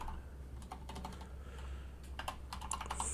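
Keys on a computer keyboard tapped in short irregular bursts, quiet and close, with brief pauses between clusters of strokes.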